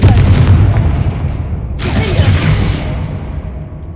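Confringo blasting spell exploding in the Hogwarts Legacy video game: a loud, deep boom with rumbling body, then a second bright burst that fades into a decaying rumble.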